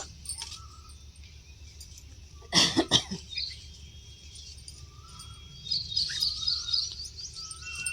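A single sharp cough, near and loud, stands out against a quiet background with faint bird chirps before and after.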